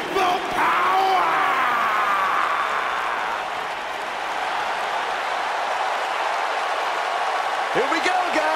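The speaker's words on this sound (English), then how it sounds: "Clap for your longest reigning tag champs and feel the power!" Crowd at a WWE wrestling event clapping for the longest-reigning tag team champions, a steady wash of applause and cheering that holds throughout, with a few louder shouts near the end.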